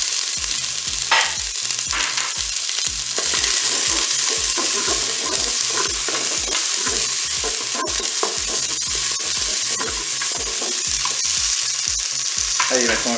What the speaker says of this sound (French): Ça y est, l'huile est chaude, donc je vais mettre mes oignons.